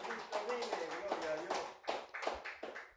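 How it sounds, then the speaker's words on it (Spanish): A church congregation claps at a steady, rhythmic pace, the sharp hand strikes landing under loud voices that keep speaking and singing close by. "Dele fuerte aplauso al Señor."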